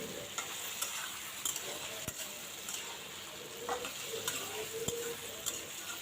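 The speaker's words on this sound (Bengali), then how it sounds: "আর ধনিয়া গুঁড়ো দেব, আর একটু আদা বাটা দেব। এখন ভালো করে কষিয়ে নিই।" Spices with turmeric, coriander powder and ginger paste sizzle quietly in a pan while a spoon stirs them, with soft scraping strokes and occasional clicks over a steady frying hiss.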